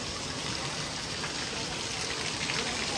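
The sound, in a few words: heavy rain falling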